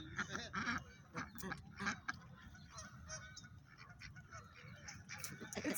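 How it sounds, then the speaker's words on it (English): A Muscovy duck calls close by with short honking, hoarse bursts in an uneven series, birds around it, outdoors near squirrels and other ducks. "It's a Muscovy duck."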